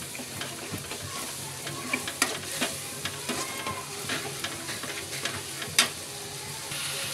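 Chopped tomatoes sizzle in a hot pan while a spoon stirs and mixes them, producing a steady frying crackle broken by frequent clicks and scrapes against the pan. No one talks.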